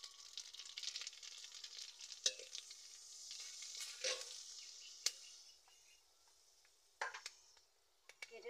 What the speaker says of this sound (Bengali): তেল দিয়ে দিচ্ছি, কালো জিরে দিয়ে দিচ্ছি